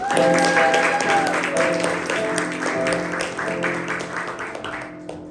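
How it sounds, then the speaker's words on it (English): An open-mic audience at a storytelling and poetry night in Princeton claps together in a warm, sustained round of applause, with steady tones ringing over it before it fades near the end. "Give yourself a round of applause, please."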